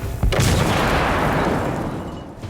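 A grenade in The Order: 1886 detonates with a loud, close boom, then a long rumbling roar and debris wash that slowly fades over two seconds.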